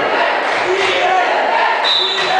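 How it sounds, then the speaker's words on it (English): A basketball crowd going wild late in a tied double-overtime game in Japan, a loud continuous roar of cheering and shouting with a few whistles and squeaks rising above it. "And the crowd is going wild again."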